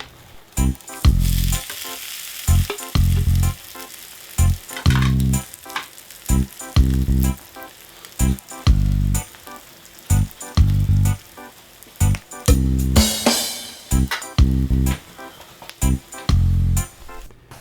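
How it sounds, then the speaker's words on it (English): Potatoes sizzling as they are put back into a pan with bacon and eggs to warm up, heard in repeated loud bursts with short pauses between them and no talking. "Put the potatoes back to warm them up."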